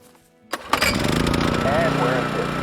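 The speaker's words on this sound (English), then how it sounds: "Just stick a little fuel in the generator and fire it up." A fuel-powered generator in Call of the Wild cranks and catches, then settles into a loud, steady engine drone that runs to the end.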